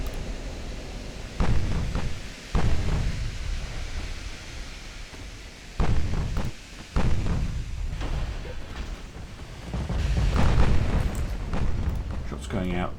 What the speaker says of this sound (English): Shots going out against, I think, one of the battle cruisers.